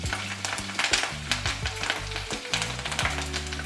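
Ponnanganni spinach leaves fry in ghee in a hot pan, a bright close sizzle broken by repeated scraping and stirring strokes of a spoon against the pan.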